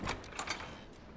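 A door mechanism in the video game Final Fantasy XVI grinds open with a short, faint rumbling scrape that stops almost at once, with no talk over it.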